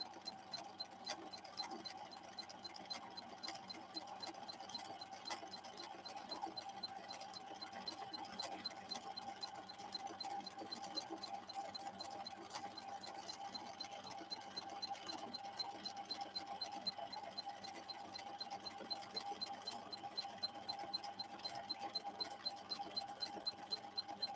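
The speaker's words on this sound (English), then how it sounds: "The slow gear is engaged, so we're running at about 1/5 the speed of what this machine will run at when it's at full power." A Husqvarna Viking 6460 sewing machine runs in slow gear, its needle mechanism ticking in a steady fast rhythm with a constant motor hum, close and moderately quiet throughout.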